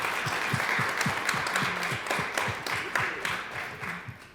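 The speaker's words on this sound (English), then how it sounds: "Can we get another round of applause, please?" An audience claps and cheers at a Chime It Forward financial literacy event, a sustained burst of applause with close, crisp individual claps over a dense crowd wash, fading slightly toward the end.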